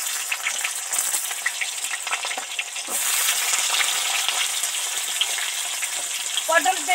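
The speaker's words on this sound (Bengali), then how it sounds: "এবার ওই তেলের মধ্যে পটলগুলো দিয়ে দিলাম।" Pointed gourd pieces frying in hot oil, a steady close crackling sizzle that runs throughout and grows slightly denser partway, with a few light clinks near the end.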